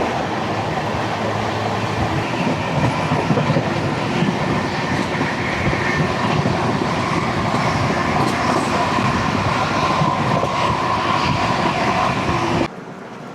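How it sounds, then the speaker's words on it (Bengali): A Kolkata Express train rolls along with a loud, steady rumble and rattling clatter, then the noise drops off sharply as it stops at Gomoh station. "তো ট্রেন এসে দাঁড়ালো নেতাজি সুভাষচন্দ্র বোস বা গোমো স্টেশনে।"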